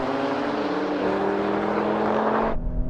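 A Porsche accelerating hard in a drag race against an Alfa Romeo Stelvio, loud close engine roar climbing in pitch through a gear change before cutting off abruptly near the end.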